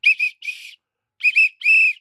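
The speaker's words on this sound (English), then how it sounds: "that whistle wouldn't blow that well today" A whistle blown in shrill, piercing blasts, several short toots in two quick groups separated by a brief silence.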